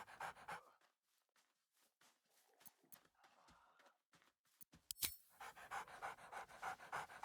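Scratch, a dog in a video game, pants in quick, breathy bursts with soft pauses between them, then gives a short, sharp bark before the panting resumes more loudly.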